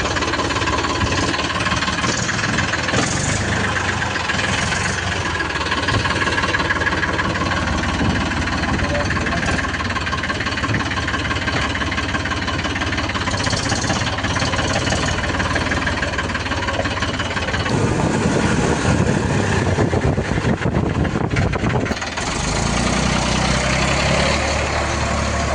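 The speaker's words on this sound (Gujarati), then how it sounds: "ખેતરમાં જઈએ છીએ અમે ટ્રેક્ટર લઈને ખેડવા." A tractor engine idles steadily and continuously, close by and fairly loud, in a farm setting after heavy rain, just before the tractor heads out to plough a field, with a shift in engine tone near the end.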